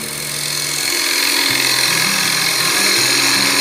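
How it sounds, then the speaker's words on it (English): A bowl gouge cuts a groove into wood spinning on a lathe, giving a loud continuous rough scraping hiss with low pitched steps as the cut shifts, with no talk. "and then just sweep the gouge through the cut"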